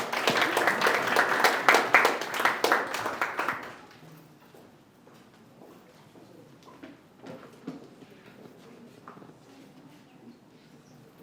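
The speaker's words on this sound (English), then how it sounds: "Round of applause for him." A school audience gives a lively round of applause for the student council president. The clapping is strong for about four seconds, then stops abruptly, leaving a quiet hall with scattered small taps and shuffles.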